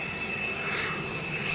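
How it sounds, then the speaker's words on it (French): Steady, loud roar of a jet airplane engine from the film THX 1138, a broad continuous rumble and hiss holding level throughout, with no voices over it. "C'est le bruit d'un avion, ça."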